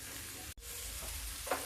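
Nimona, a green pea dish, fries in a pan with a steady, quiet sizzle and faint stirring, one short break near the start and a small scrape toward the end, with no talking.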